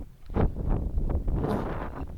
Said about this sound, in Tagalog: May lakas na pala yung ulan, kaya pala grabing hangin